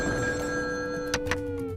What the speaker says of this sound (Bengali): পরপর ভুতুড়ে ফোন আসছিল তো